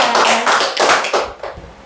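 Several people clap hands together at a birthday celebration, a loose, uneven burst of close claps that thins out toward the end with a few scattered taps.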